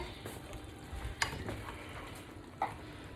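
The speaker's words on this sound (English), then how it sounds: "this is what my zucchini and squash is looking like. And I'm just gonna stir it around." A spoon stirs sliced zucchini and squash frying in a pan, a steady soft sizzle broken by a couple of sharp utensil scrapes and clinks, close and fairly quiet.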